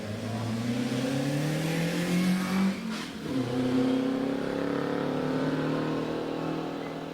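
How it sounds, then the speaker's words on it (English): A vintage Riley Special racing car at a Vintage Sports-Car Club hillclimb at Prescott, its engine droning steadily, dipping briefly as it lifts off for a corner, then rising again under acceleration, heard at moderate distance. "Here's Barbara chucking the Riley Special round Orchard into Pardon"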